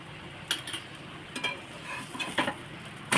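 A moong dal bread cutlet sizzles in ghee on a pan, a soft steady frying hiss with a few light scrapes and clicks of a spatula.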